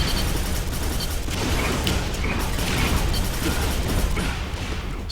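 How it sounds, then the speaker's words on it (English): Machine gun fire in the multiplayer shooter Quake 4, a steady rattling stream of rapid mechanical shots, loud and continuous throughout. "Still just using the machine gun to get what damage we can."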